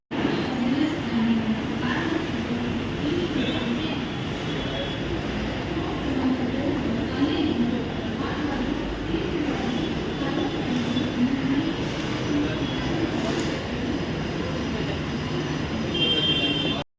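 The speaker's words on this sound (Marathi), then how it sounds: "आलेली लोकल 8 वाजून 30 मिनिटांची अर्बन लाईनवरून मुंबई छत्रपती" A Mumbai local train on the urban line running steadily, with a continuous loud rumble of wheels and carriages throughout and occasional higher metallic tones, no talk.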